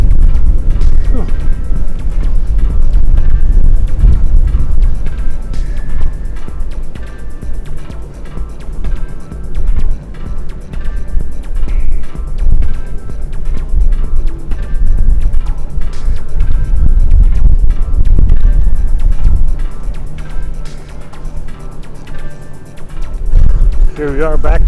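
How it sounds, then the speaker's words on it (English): Strong wind buffets and rumbles continuously across the open upper deck of the Royal Caribbean cruise ship Serenade of the Seas, with a faint voice speaking now and then beneath the roar. "Oh, more wind noise."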